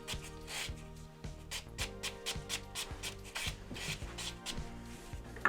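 A buffer rubs over a cured builder gel nail, making soft, quick back-and-forth scratchy strokes in a steady rhythm, close and quiet.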